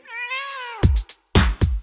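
A cat gives one long, rising meow, followed by a few short, sharp sounds, close and clear with no talk over it.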